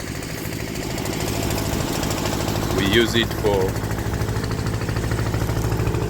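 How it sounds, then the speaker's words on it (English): An old Ford farm tractor with a trailer hitched behind runs with a loud, steady, rumbling engine drone throughout, as a person speaks briefly over it. "It's a Ford tractor."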